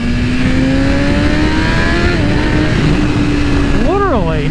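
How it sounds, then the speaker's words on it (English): A red 2023 BMW S1000RR sport bike's engine sounds loud and close, holding a steady high drone, then revving sharply upward in rising and falling sweeps near the end. "Literally 9 approaching 10 when you can actually hear it like rev and wanting to go"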